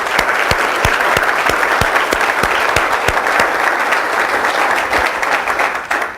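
A large audience applauds warmly for a few seconds at a BYU law event to welcome a guest speaker, a dense, even burst of clapping that tapers off at the end.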